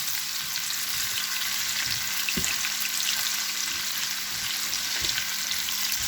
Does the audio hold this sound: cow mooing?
no